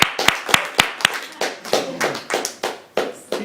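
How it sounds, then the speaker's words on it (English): Scattered hand claps at a live GTeX night event honouring performer Fergus, sharp separate slaps at an irregular beat rather than a dense ovation, close and fairly loud with no talk. "if we all give Fergus a big, proper round of applause"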